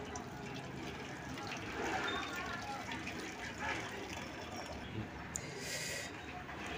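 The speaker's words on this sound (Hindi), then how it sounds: "छेना को हम पानी से अलग कर लेते हैं इस तरीके से," Whey from milk curdled into chenna pours and trickles through a sieve, a steady close splashing and flowing of liquid, with a brief clink near the end.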